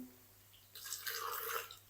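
A short, quiet gush of water splashes into a blender jar for about a second, after a near-silent start.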